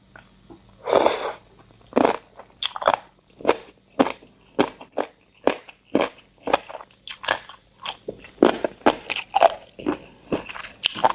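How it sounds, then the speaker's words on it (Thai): Fried angel-wing jellyfish, served with roasted chili paste and spicy seafood sauce, gets bitten and chewed up close in a long run of sharp, loud crunches at a steady rhythm with no talk. "กรอบเหมือนแมงกะพรุนหัวกระสุนอืมอร่อยค่ะ อุ้ยกรอบมาก"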